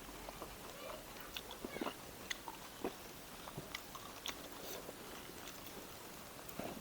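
Soft wet chewing and biting of boiled eggplant at close range, a quiet run of small crunches and smacks during a mukbang, with no talking.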